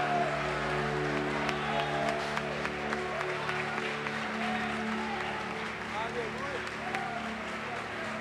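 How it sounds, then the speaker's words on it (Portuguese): A church congregation claps in praise over sustained organ or keyboard tones, scattered hand claps and crowd noise under the music, with voices mixed in. "aplauda o nome do Senhor."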